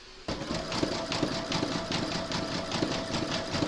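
An embroidery machine sews a dense satin stitch around a raw fabric edge, starting abruptly and running as a steady, rapid mechanical whir and clatter up close.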